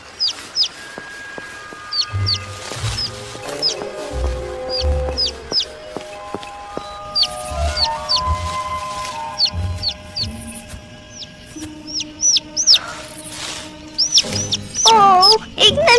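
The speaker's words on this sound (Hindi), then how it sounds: "ओह, एक नन्हा सा पंछी।" A small bird gives repeated short, high chirps in scattered bursts over soft background music, with a few faint low thumps between.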